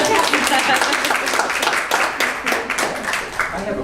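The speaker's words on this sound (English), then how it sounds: "That's extra applause for that" Audience applause at a UX capstone Q&A session in Seattle, a sustained wash of clapping filling the room for several seconds, with some voices mixed in.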